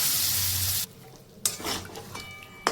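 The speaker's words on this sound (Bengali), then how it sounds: "জলটা দিয়ে এভাবে নাড়াচাড়া করে আমি কিছুক্ষণের জন্য অপেক্ষা করব যাতে জলটা ফুটে ওঠে।" Chicken boti masala stirred in a pan right after water goes in, with a loud hiss that cuts off, then spoon scrapes and clatters against the pan.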